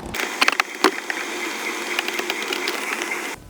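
A ratchet fitted with a 10mm socket and extension works a bolt loose inside a 2016–2019 Lexus RX dashboard, giving quick clicking pawl bursts near the start followed by softer, scattered clicks and rustling.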